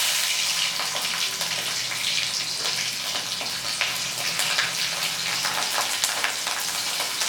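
Chilies and black cumin seeds sizzle steadily in hot oil, a dense continuous frying hiss with faint stirring, close and fairly loud throughout.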